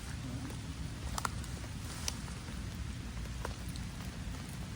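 Steady rain falls on a campsite as a dense, even patter with a few sharper drops standing out, continuous and fairly close throughout.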